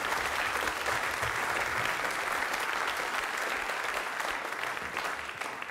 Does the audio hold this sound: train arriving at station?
no